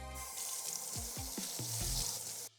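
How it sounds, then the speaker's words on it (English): Running water from a kitchen sink tap splashes steadily while hands are washed during turkey preparation, with a few quick watery splashes partway through before the flow cuts off abruptly. "Now I'm gonna wash my hands."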